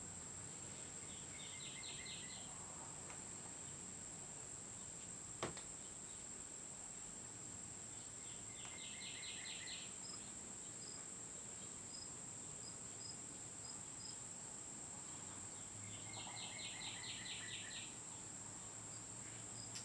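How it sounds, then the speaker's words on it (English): Crickets chirp in short repeated trills outdoors, faint and steady against a constant insect hum, with a few soft bird peeps. "I hope you can hear how beautiful the birds and the crickets are outside here today."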